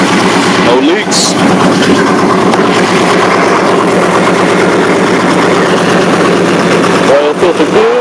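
A car engine runs at a steady idle during an oil change, loud and close and continuous throughout, with brief voices over the engine near the start and end.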